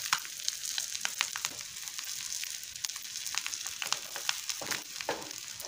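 Eggs frying in a pan with a little fresh coriander: steady, quiet sizzling with scattered crisp pops and crackles, close and continuous, no voices.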